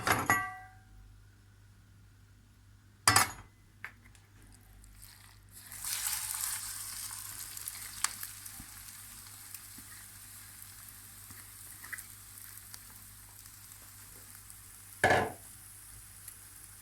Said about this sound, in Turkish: Alt üstü nar gibi kızarana kadar pişirmeye devam edeceğiz